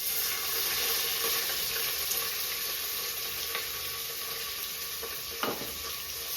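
Two medium onions fry in spiced oil for tomato rice, making a continuous loud hiss and sizzle with occasional faint utensil taps, and no voices.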